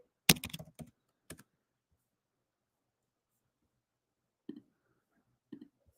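Computer keyboard typing while entering a 20-day trading model: a quick burst of keystrokes, then a couple of isolated taps after a pause, close and crisp with no talk.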